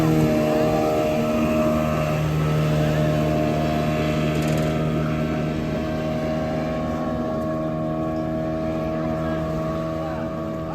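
Racing speedboats drift at a boat race show in Chennai, their engines a loud, steady, close drone that runs the whole way through with little change.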